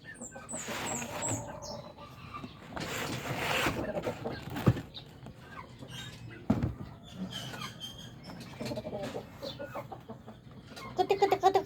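Farm chickens clucking in scattered bursts at moderate distance, mixed with rustling and occasional knocks, while a person talks intermittently nearby.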